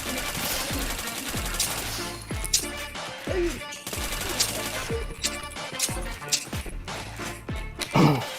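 Rapid gunfire from the shooter video game Point Blank, repeated sharp shots in quick bursts with metallic clicks between, loud and punchy throughout.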